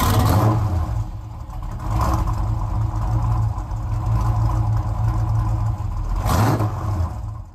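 A 5.7 liter Hemi V8 engine running close by, a loud rumbling idle with a couple of brief revs rising above the steady drone.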